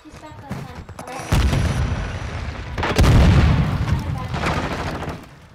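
A grenade goes off in the Call of Duty multiplayer shooter, a heavy close boom at the start followed by a second loud blast a bit later, both over rumbling game noise and scattered gunfire with players talking.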